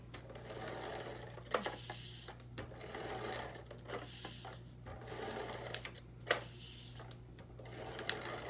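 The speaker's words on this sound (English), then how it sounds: "And I'll tape it down with my ATG." An ATG tape gun lays adhesive onto cardstock for a scrapbook page, making a run of close, quiet rattling clicks and short ratcheting bursts with a few sharper snaps, all over a faint steady hum.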